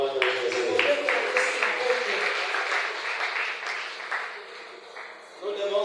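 Church congregation applauding and cheering in praise during a service, a sustained wash of clapping and voices that fades slightly before swelling again at the end.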